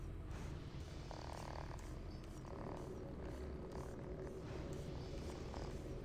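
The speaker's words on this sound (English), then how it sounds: "Is there a cat purring?" A cat purrs close by with a soft, continuous rumbling rhythm that is quiet and low and runs steadily without any talking.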